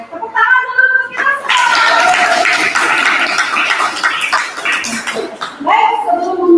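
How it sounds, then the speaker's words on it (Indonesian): A classroom of children claps along in a loud, steady burst of applause lasting several seconds, with a teacher's voice speaking before and after. "Tepuk tangan dulu untuk kita"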